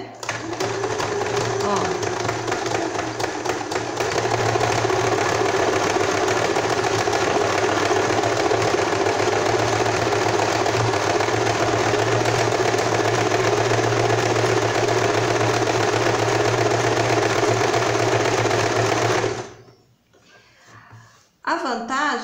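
An Elgin sewing machine sews a satin stitch on fabric, a loud, steady mechanical whir running continuously up close before stopping abruptly near the end, with a brief voice afterward.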